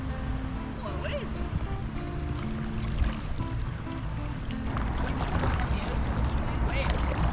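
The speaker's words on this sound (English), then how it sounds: "That's a lot of waves." River waves slap and wash around a paddled kayak near a waterfall outlet on the Allegheny River, a steady close splashing and churning of water while a person talks over it.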